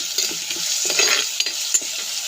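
Tomato, onion and green chilli sautéing in a pan with a little rock salt, a close sizzle broken by the scrape and clink of a spoon stirring against the pan, no talking.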